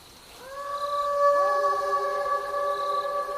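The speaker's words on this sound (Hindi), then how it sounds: "तभी कहीं दूर से कुत्तों के रोने की आवाज आई।" Long, drawn-out howls from a few dogs, one voice entering and another joining a moment later, sustained wailing tones with faint background hiss, set as a horror-story effect.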